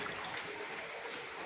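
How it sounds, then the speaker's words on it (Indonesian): Underground river water trickles in Cerme cave, a soft continuous hiss of running water, faint and steady over a short stretch with no talking. "Di dalam gua ini sungai bawah tanah."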